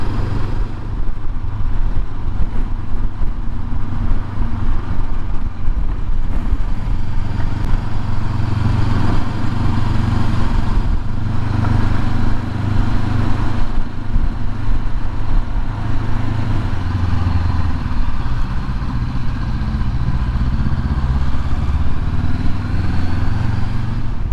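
A Honda CB500X motorcycle rides country lanes with a steady, loud engine drone and wind rush, holding an even rhythm with slight pitch shifts and no speech.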